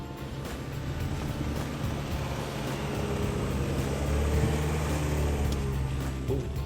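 A 2024 Chevy Colorado ZR2 Bison truck climbs rutted off-road terrain, its engine giving a steady, loud, low rumble that swells slightly partway through with no break.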